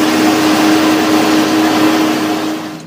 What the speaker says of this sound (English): while driving a tractor down the road.